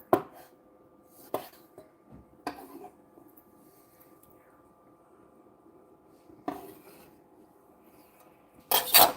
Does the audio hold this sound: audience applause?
no